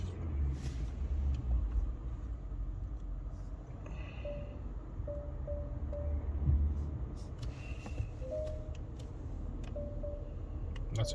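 Peugeot 508 Hybrid 225hp driving gently through city traffic with the air conditioning on, a quiet continuous low rumble of road noise inside the cabin, with faint ticking indicator-like clicks and soft beeps.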